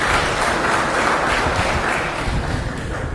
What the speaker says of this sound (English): Can we please give the resource person and moderator another resounding applause?